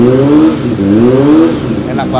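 A Ducati Panigale motorcycle engine revs loud and near, warming up with a deep wavering drone that rises and falls over about two seconds.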